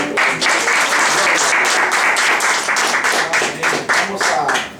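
A church congregation applauds loudly and steadily, with sustained clapping that continues throughout.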